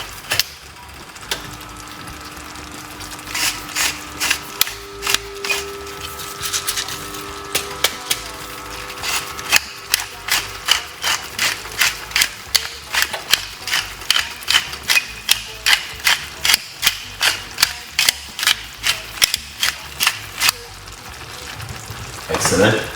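A pepper grinder cranks steadily over a pan of salmon frying with garden vegetables and asparagus. It gives a long run of rapid, evenly spaced ratcheting clicks over a constant sizzle, with some talk in the background.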